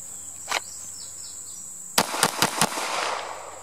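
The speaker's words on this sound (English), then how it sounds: "We'll fire 5 rapid fire at 7 yards" Rapid pistol fire from a CZ P10C at a 7-yard range drill: one early shot, then a tight burst of four sharp, loud cracks in under a second, each followed by a brief ringing tail.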